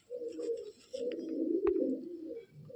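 Madrasi pigeon cooing in a loft, a low throaty rolling coo repeated in two close, fairly quiet bursts with a brief click between them.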